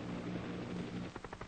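Faint, steady rotor drone of a scout helicopter in flight, distant and low in level, with a slight rhythmic chop emerging toward the end.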